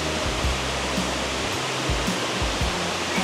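Dai Chong Thong waterfall in Sangkhla Buri pours in a steady, dense broadband roar of falling water, constant and fairly loud throughout, with no voices over it.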